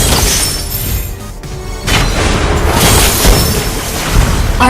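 A turret being destroyed in the video game Mobile Legends: a loud, crashing burst with shattering debris, followed by continued dense, noisy game sounds.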